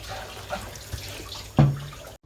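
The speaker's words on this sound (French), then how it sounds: "je mets un tout petit peu d'eau, un tout petit." A small amount of water poured into a pot of beef bourguignon gives a brief splash and gurgle among soft kitchen sizzling and clinks, close and fairly quiet.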